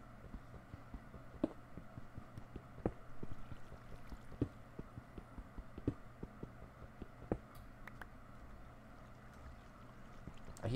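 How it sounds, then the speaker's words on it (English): Soft, steady flowing water trickles in a block-building video game cave, joined by faint recurring clicks and taps of mining. "I hear water."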